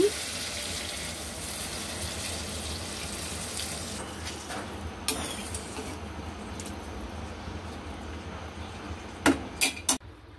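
Water poured into a cooking pot while making a potato and tengra fish curry, a steady gushing rush that lasts several seconds, followed by a few sharp clanks near the end.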